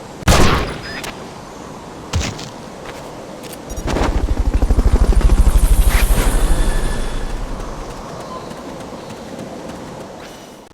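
In the video game Metal Gear Solid Peace Walker, a helicopter's rotor chop swells up and then fades away after a few sharp bangs, loud and fairly near, with no voices.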